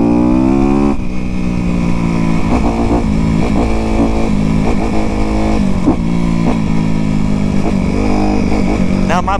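A 2020 Honda CRF250R dirt bike engine revs steadily while being ridden, a loud, continuous mid-pitched drone with rising and falling throttle surges close by throughout.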